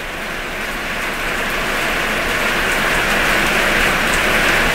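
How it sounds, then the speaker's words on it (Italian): Heavy rain pours in Dubai, a dense, steady hiss of drops hitting surfaces that builds slightly louder, close and continuous with no voices. "sto fradicia perché piove tantissimo"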